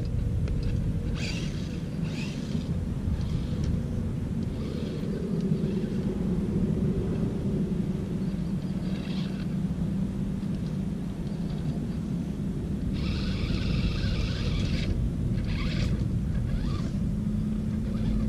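An Axial SCX10 II RC crawler fitted with an Injora transmission drives along, giving off a steady low motor and gear hum with faint higher whirring bursts, close by and with no talk.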